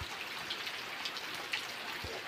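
Steady rain falls outside a house on a rainy evening, a dense continuous patter with scattered louder drops and no voices.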